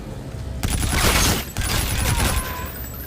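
Sustained gunfire bursts in the Call of Duty Infinite Warfare video game, dense rattling shots with booming impacts, loud and continuous with a brief break in the middle.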